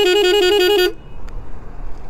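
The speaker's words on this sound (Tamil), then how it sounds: "ஸோ இப்போ வச்சுருக்க ஹார்னை வந்துட்டு நான் அடித்து காட்டுறேன்." A Yamaha RX100 motorcycle horn blares in a loud, steady, tuned multi-tone blast close by, lasting just under a second before cutting off to quiet background.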